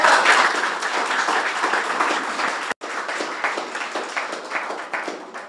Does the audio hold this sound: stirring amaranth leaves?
no